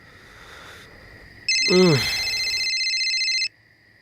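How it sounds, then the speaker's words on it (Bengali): A phone ringtone chimes for about two seconds, a bright electronic melody, preceded by a brief vocal sound and faint background tone. "কার মোবাইল বাজে?"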